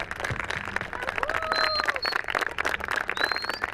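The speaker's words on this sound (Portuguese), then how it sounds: "Uma salva de palmas para todos esses." Audience applause at a community film screening in Lajeado, dense clapping throughout with whistles and voices mixed in.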